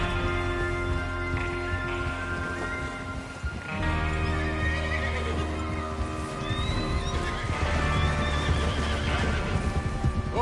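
Horses whinny and neigh amid dense, continuous game-world noise in Red Dead Redemption 2, with clip-clopping hooves and a music-like tonal bed underneath.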